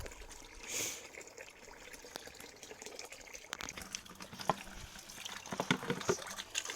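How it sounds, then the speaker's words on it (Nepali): Water runs steadily from a village home tap as a container fills, a close, continuous splashing trickle that grows slightly busier toward the end, with no voices. "अहिले चाहिँ पानी भर्न थालेको"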